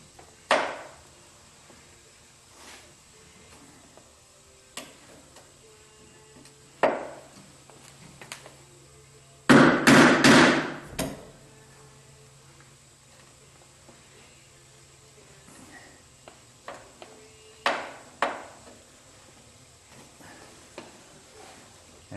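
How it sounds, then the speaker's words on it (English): Scattered sharp metallic raps of a hammer striking a Phillips screwdriver to free a stuck vehicle body mount bolt ring out at intervals, with a tight burst of several quick strikes in the middle against a quiet background. "a couple sharp raps with the hammer"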